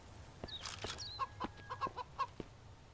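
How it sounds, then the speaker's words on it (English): A chicken in the survival game Mist Survival gives a series of short clucks near a roadside compound, spaced irregularly against faint outdoor ambience and some bird chirps. "I think that was a chicken over there."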